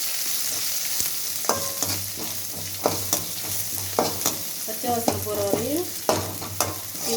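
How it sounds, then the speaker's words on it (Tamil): Garlic sautéing in hot oil for a greens rasam sizzles steadily up close, with repeated scrapes and clinks of a stirring spoon against the pan and no talking. "பூண்டு எண்ணெயில் வதக்கும், நல்லா வாசனை வருது"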